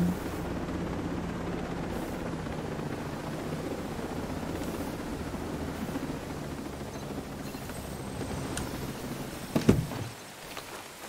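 A helicopter flies in Ghost Recon Breakpoint, a steady rushing rotor drone held at low volume throughout, with a few sharp clicks and a brief louder burst near the end.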